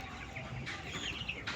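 Chickens in a three-storey poultry farm cluck and murmur together, a faint, dense chorus of soft calls with a brief flutter, heard from a little distance with no talking.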